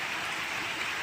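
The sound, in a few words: heavy rain falling after a storm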